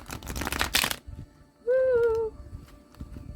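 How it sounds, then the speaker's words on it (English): A quick, dense riffle of tarot cards being shuffled, followed by a short whistling tone and then quiet rustling. "I'm going to give this one more shuffle"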